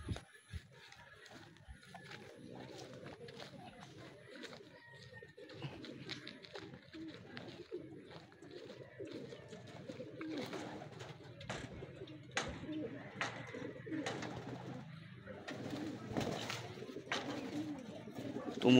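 Racing pigeons coo outdoors during a pigeon race training release in Cavinti, Laguna, repeated soft low calls over wind and background noise, with people talking now and then.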